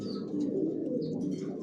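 Racing pigeon of red checker colouring in a loft, cooing steadily and close with soft throaty calls and a faint chirp, no talking.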